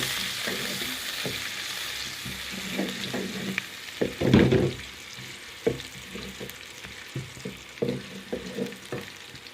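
Onions frying in a pan while cooking aloo matar, a steady sizzle with intermittent stirring scrapes and clinks, louder in the middle, no voices.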